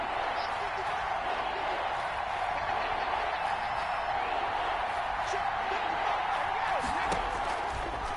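A stadium crowd in a PS4 American football video game roars in a steady, sustained wash of cheering, constant and fairly loud throughout, with a commentator's voice talking over it.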